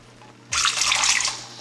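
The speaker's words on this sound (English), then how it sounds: "I'm gonna add a little bit more water, about 1 cup." After a moment of quiet, about a cup of water pours suddenly into a pot of cooking rice, a loud splashing rush that runs steadily for about a second before easing.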